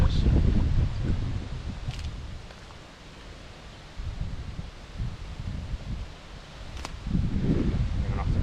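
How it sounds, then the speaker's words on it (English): Strong gusts buffet the microphone beside a fishing peg during a match-fishing contest, deep low rumbles surging and easing in waves with a quieter lull midway. "It's got windy as hell all of a sudden"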